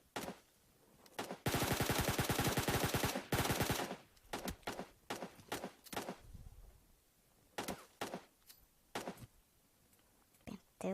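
Automatic gunfire in a PUBG Mobile match: a long dense burst followed by a string of separate sharp shots, loud and close, with quieter gaps between them.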